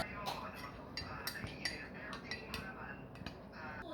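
Oreo cupcake batter mixed with a quarter cup of milk, stirred in a bowl: quick, faint clinking and scraping of a utensil against the container, repeated in an uneven rhythm, close and quiet.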